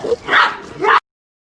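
A dog barking close up, two loud sharp barks in quick succession, then abrupt silence.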